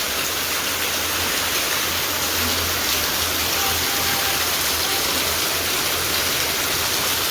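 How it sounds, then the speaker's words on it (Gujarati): Heavy rain pours down steadily alongside loud rushing water, a dense continuous roar with no letup, the broadband hiss filling the whole scene from near to far. "ગજા બધું કેવું વરસાદ આવ્યો"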